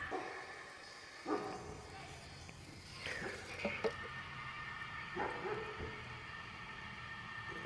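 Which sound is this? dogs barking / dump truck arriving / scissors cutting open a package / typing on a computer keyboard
dogs barking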